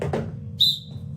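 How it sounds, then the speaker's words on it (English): A single short, sharp whistle blast cuts in briefly over a low steady background after two dull thuds, serving as the signal to drop to the ground. "Then you're going to hear a whistle. On the whistle, hit the ground."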